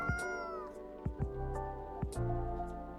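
A cat in the video game Coffee Talk 2 gives soft, drawn-out meows over light background music, fairly close.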